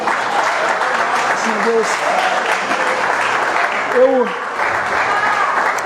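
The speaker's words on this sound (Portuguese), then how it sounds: "Vamos nos colocar de pé, aplaudir o nome do Senhor." A church congregation stands and applauds the name of the Lord, with steady, full-room clapping running throughout while a voice speaks over it.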